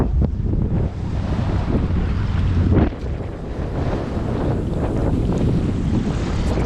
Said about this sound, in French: Pas évident avec le vent de face